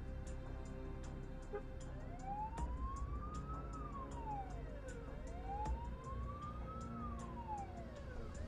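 An ambulance siren in heavy traffic in Warsaw, Poland, wails in long rising and falling sweeps that repeat over a steady traffic rumble. It sounds fairly distant and faint.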